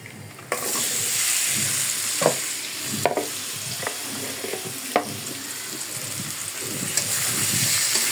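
Fish and reddened onion fry in a pan on a weak gas flame, giving a steady, close sizzle with a few sharp stirring knocks and scrapes scattered through it.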